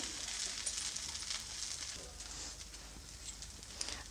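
A flipped dosa fries in about a tablespoon of oil on a hot pan, giving a continuous close crackling sizzle with fine popping patter throughout.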